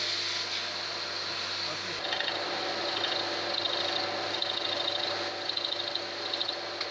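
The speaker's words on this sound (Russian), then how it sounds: "Достает стружку магнитом и продолжает упорно сверлить." Steady grinding, rasping drill work boring into a Ford 1.6 cast cylinder block to clear a broken extractor, continuous and close with a faint hum beneath, intensifying slightly after the first couple of seconds.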